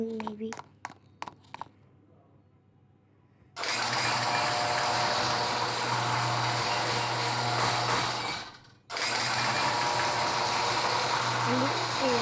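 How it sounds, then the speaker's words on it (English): A Panational industrial ceiling fan whirs loudly with a steady mechanical hum close by, cutting out briefly and resuming, after a few short knocks and a moment of quiet at the start. "And this is fan that was actually spinning here, but it spins back so it blows air."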